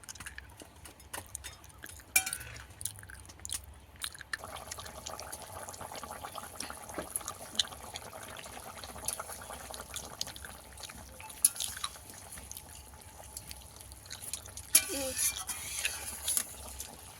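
A pot of fish and beetroot curry with shol fish simmers on the stove, giving a faint, continuous bubbling with small drips and pops, quiet and close, with occasional louder clinks.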